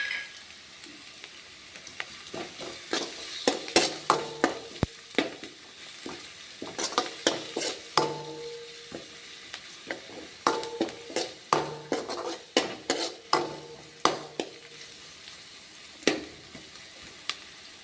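Crushed green chillies fry in a pan for a radish greens stir-fry, with a steady sizzle broken by repeated clattering stirs of a spatula against the metal, close and fairly loud.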